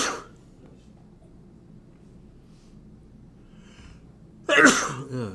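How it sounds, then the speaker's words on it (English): A single sharp human sneeze bursts out near the end after a few seconds of quiet room tone, loud and close, with no talking around it. "Excuse me, I'm sneezing."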